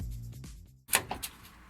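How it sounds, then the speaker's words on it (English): A worn door check strap on a Renault Megane III gives a few sharp cracking clicks as the door swings. They follow a low, steady hum and sit close to the mic. "common problem with Renault Megane III can be a cracking sound from the doors"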